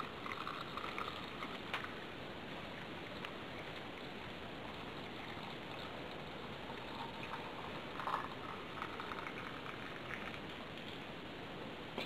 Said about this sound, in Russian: Вот мы заливаем нашу баночку кипящим рассолом.